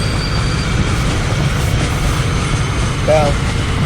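Train rumble from a train-driving video game, a sleeper-class train running steadily with a continuous low rolling drone, a brief wavering tone near the end, while a voice talks over it.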